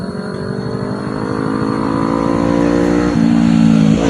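Big bike motorcycles ride past on a roadside spot, engines growling louder as they approach, with a higher revving note cutting in near the end.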